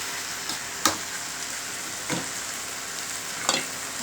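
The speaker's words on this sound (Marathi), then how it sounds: "हळद एकदा परत तेलावर थोडेसे हलवून ती जेणेकरून सगळं मिक्स होईल" Turmeric and fenugreek seeds stirred in hot oil, a quiet steady sizzle marked by a few isolated spatula taps and scrapes against the pan.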